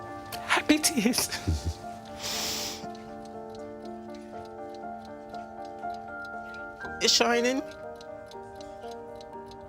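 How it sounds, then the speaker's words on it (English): A restored childhood clock ticks in an even, quiet rhythm, with voices speaking briefly at the start and again partway through. "When I hear the tick of the clock"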